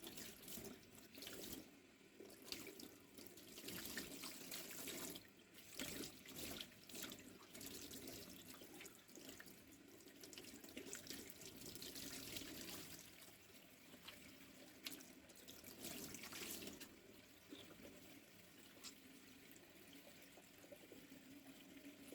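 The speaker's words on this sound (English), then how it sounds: "To clean the foam filter, you simply rinse it out under running water." Tap water runs steadily over a foam filter from a Shark DuoClean vacuum cleaner as it is rinsed and squeezed by hand, splashing and gurgling close up with shifting flow, no talking.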